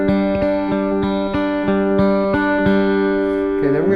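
Electric guitar played with hybrid picking, a pick and fingers alternating between fretted notes and an open string, gives a steady, evenly spaced pattern of clear ringing plucks, close and alone, before fading into a brief scrape.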